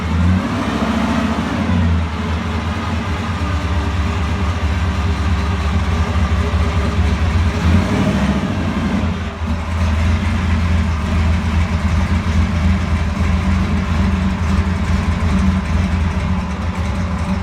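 A 1966 Chevrolet Chevelle's engine idles loud and steady, a deep continuous rumble with slight swells as the car rolls into a workshop, no voices over it.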